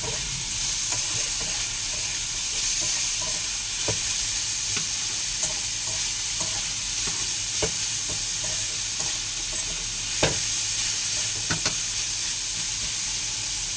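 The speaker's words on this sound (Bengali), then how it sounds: "কাঁচা লঙ্কাটাও দিয়ে দিই, পেঁয়াজগুলোকেও দিয়ে দিই, দিয়ে এবার এগুলোকে যথাসময় নাড়াচাড়া করি" Green chillies and onions frying in hot oil, a constant bright sizzle with frequent scraping clicks of a spatula stirring the pan, close and steady throughout with no talking.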